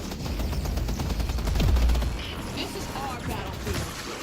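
Tesla bullets firing in the video game Deadlock, a steady stream of rapid shots with a heavier thump midway and mechanical clatter, loud and close.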